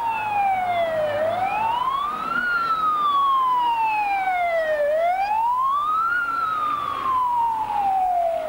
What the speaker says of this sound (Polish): Przed 13 rozległ się ryk syreny oznajmujący pożar.